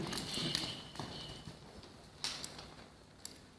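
A stud horse moves about, its hooves giving scattered clip-clop strikes, a few sharper knocks standing out over a soft, fairly distant background.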